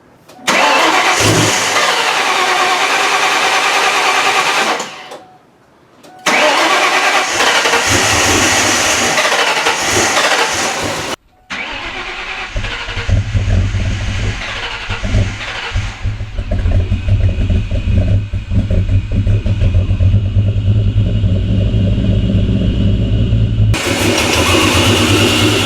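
A supercharged 2004 Mustang Cobra V8 with an upgraded 2.3L Whipple blower cranks and fires up, cuts out briefly, restarts and settles into a loud, steady rumbling idle with revs up close.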